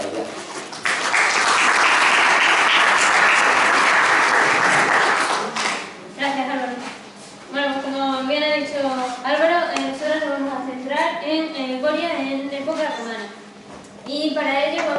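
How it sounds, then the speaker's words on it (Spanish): Audience applauding volunteers at a talk in Coria, a dense, loud burst of clapping lasting several seconds before fading, followed by someone speaking. "Un aplauso para ellas."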